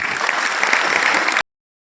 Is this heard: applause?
yes